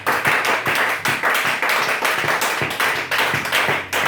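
A church congregation claps in a fast, steady rhythm during a worship service, loud and close, with some cheering mixed in.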